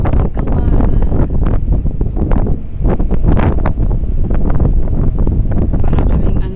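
Strong afternoon wind buffeting the microphone among city buildings, a loud continuous roar with gusting rumbles and crackling bursts throughout, no pause.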